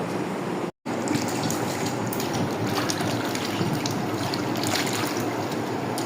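Boiled potatoes are washed in water, a continuous loud gush and splash running nearby with a short break near the start.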